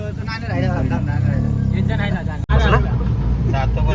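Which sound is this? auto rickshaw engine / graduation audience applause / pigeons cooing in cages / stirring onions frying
auto rickshaw engine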